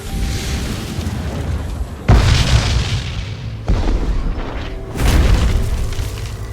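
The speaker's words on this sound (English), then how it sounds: "The bombard was no more powerful than a trebuchet, but it did have a psychological impact on the enemy." A medieval bombard cannon fires three times, each a heavy deep boom followed by a long rumbling decay, separated by a couple of seconds under a dense, reverberant background roar.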